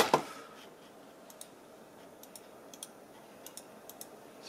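Buttons on a Motospeed V30 mouse clicked one at a time, giving faint, crisp, separate clicks at irregular intervals after a brief louder knock at the start, with no talk.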